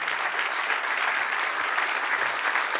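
A congregation at a church service claps steadily, a dense, even wash of applause that sounds moderately distant and carries no speech.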